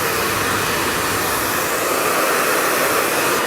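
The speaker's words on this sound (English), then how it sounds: "the dryer is not right on top of the brush because the power of the dryer is just pushing the hair onto the brush" A handheld hair dryer blows while a bob hairstyle is brushed straight, a loud, constant, close airy roar with no pauses and no talking.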